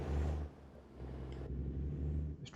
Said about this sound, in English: This truck sounds quite good.